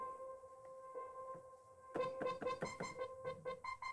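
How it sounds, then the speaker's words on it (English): A synthesizer patch through a delay line in Ableton: a quiet held tone gives way to a burst of plucked notes whose repeating echoes pulse on at a steady rhythm, faint and alone. "And then over here, I've got just a delay line that I like to use."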